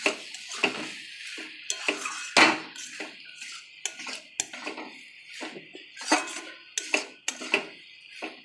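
Spoon stirring vegetarian cabbage curry in a metal pot, giving a steady series of clinks and scrapes against the sides with soft sizzling underneath.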